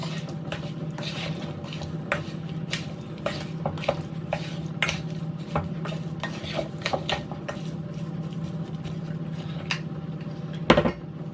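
A spoon scrapes and taps around a bowl as a food mixture is stirred, with irregular clinks over a soft background hum.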